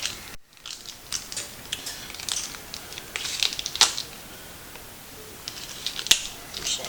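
Scissors or a blade cut pork cottage rolls free of their plastic packaging, giving scattered sharp snips and crinkles at close range over a quiet background.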